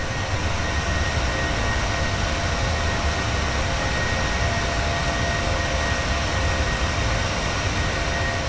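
Boeing 737-800 jet engines roar during takeoff in Microsoft Flight Simulator 2020, a constant dense, loud broadband rumble and hiss that holds steady throughout with no breaks.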